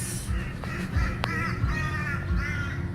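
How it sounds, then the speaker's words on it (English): A bird calls out a few times in a town street, harsh caw-like cries standing out over steady traffic and outdoor bustle, fairly close and moderately loud. "can you hear that stupid bird?"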